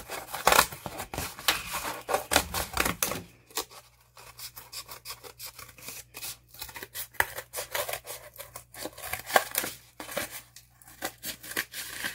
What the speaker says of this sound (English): So we're going to cut out all of these circles.